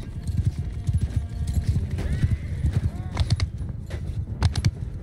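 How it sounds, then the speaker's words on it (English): Horses gallop in a Mount & Blade 2 battle, rapid overlapping hoofbeats pounding close and loud, with a neigh rising partway through amid the clamor. "More horses going after my archers."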